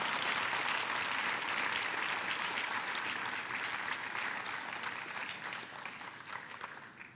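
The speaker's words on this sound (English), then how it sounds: "how about a round of applause for a very large group of seniors?" Audience applause for a large group of seniors at a high school principal's list ceremony, sustained dense clapping that stays full for several seconds and then gradually thins and fades.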